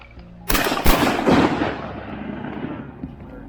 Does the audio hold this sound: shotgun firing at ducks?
yes